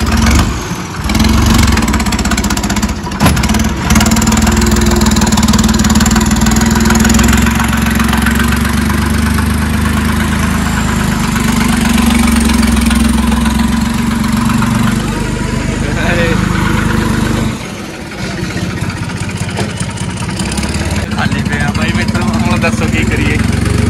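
A Massey Ferguson 9500 tractor pulling two loaded trolleys sets off, its engine droning loudly and steadily up close with a brief dip midway, nothing else breaking through.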